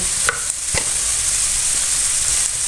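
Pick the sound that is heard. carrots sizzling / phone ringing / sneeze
carrots sizzling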